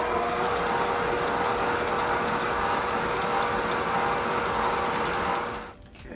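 A kitchen mixer blends frosting ingredients in a bowl, giving a continuous close whirring hum with a fine rattling texture that runs steadily for almost six seconds before easing off.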